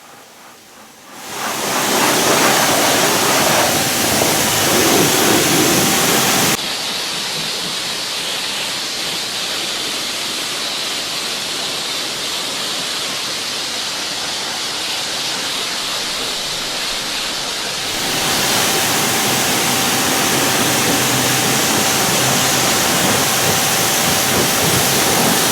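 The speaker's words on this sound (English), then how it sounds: "I gave the underside of the bonnet and the entire engine bay one final rinse off" A strong, continuous rush of water spraying while rinsing a Mitsubishi engine bay, loud and close, shifting in intensity as the stream moves, with no voices.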